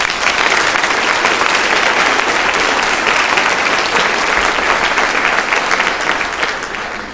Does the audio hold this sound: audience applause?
yes